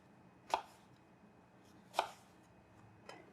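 Three crisp knife chops on a cutting board while preparing breakfast food, spaced about a second and a half apart, close and distinct against a quiet kitchen room tone.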